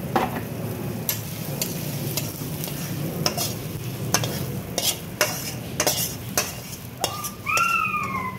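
Spiced tempering poured into dal sizzles and fries while a utensil clinks and stirs in sharp, irregular taps against the pot. A short whistling squeal sounds near the end, all close and fairly loud.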